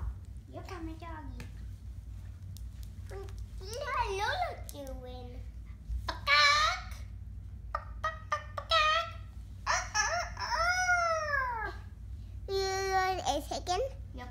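A child imitates a chicken with high, warbling clucks and squawks in short bursts, interspersed with babbling, close up against a low steady hum.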